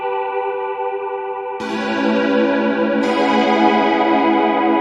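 Bright synth keys play sustained chords, with a fuller, brighter layer entering partway through; steady and loud, no voices.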